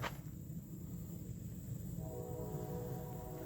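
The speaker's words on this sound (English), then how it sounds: "there's my train, guys." A steady low rumble of a train, with a sustained horn-like tone entering partway through, continuing without pause.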